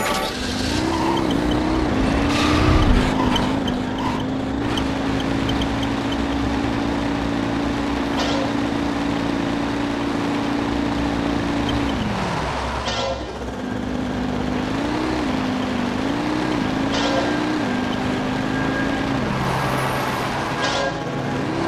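Vehicle racing in the video game Jak 3, a steady droning engine whose pitch rises and drops with gear changes, mixed with tire squeals and skids throughout, loud and continuous.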